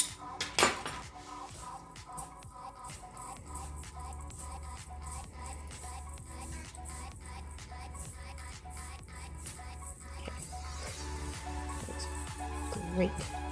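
A utensil scrapes and clinks against a bowl in a quick, regular rhythm while mac and cheese ingredients are stirred together in a home kitchen, close and moderately quiet.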